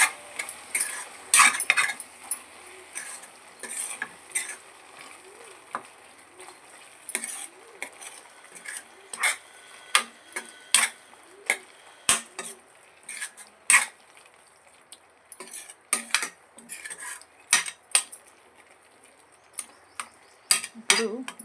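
Spices being stirred into a drumstick and tomato masala curry in a pan, with a spoon scraping and clicking in irregular strokes over a soft background sizzle, close and fairly quiet, no talking.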